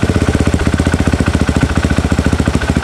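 Motorcycle or car engine fitted with a Juken 5 ECU idling steadily after a restart, a loud, close, regular rapid thumping pulse with no other sounds.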